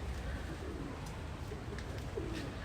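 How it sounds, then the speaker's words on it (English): Pigeons at a pagoda coo softly and repeatedly in the background, low burbling calls over a constant ambient outdoor noise, with no talking. "I can hear animal sounds or pigeons"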